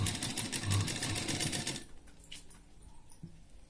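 A sewing machine stitches the lining of high-neck booties, running in a steady rapid close-up chatter for about two seconds before stopping, followed by faint handling noises.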